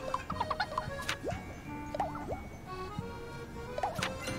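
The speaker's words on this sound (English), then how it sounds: "Is that a chicken?" A chicken clucks in the Miitopia video game, a string of short, choppy clucks and squawks in quick uneven bursts, fairly close and clear with nothing talking over it.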